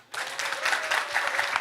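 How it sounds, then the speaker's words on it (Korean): A church youth camp congregation bursts into applause during a sermon, a dense burst of clapping that sets in quickly and stays steady and fairly loud to the end. "박수 한번 쳐줘."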